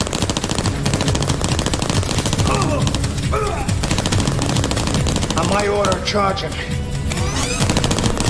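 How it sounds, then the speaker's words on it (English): Loud, rapid bursts of automatic gunfire rattle almost nonstop, mixed with other busy action sounds and voices. "Gunfire reported from the warehouse"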